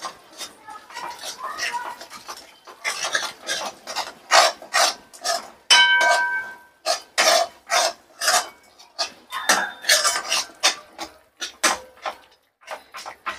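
Moong dal sheero being roasted with sugar in a pan, a steady run of close, scraping strokes from a spatula on the metal pan, rhythmic and repeated with brief pauses, with no voices.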